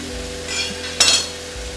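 Butter hisses and sizzles in a hot pan while a steak sears, with a faint steady frying hiss, a brief soft scrape, and then a sharper sputtering burst.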